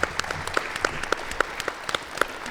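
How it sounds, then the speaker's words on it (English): An audience at a disability activism history talk in Seattle applauds a speaker's introduction, scattered sharp claps from a modest crowd blending into steady applause. "So let's give a round of applause."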